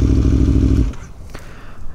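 An Aprilia motorcycle rides out toward a beach, its engine a loud, steady low drone for nearly a second before dropping away, leaving softer road and wind noise with a couple of faint knocks.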